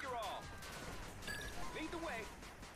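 Scattered turret gunfire in the 8 Bit Invaders video game, faint bursts mixed with game effects and a voice talking over them.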